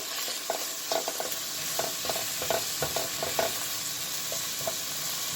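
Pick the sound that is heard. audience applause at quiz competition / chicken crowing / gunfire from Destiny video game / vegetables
vegetables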